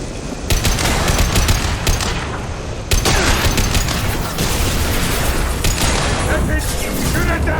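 Sustained automatic gunfire in Mass Effect 2 aimed at a loose fuel tank, loud dense bursts with sharp cracks and booms, voices shouting over the shooting.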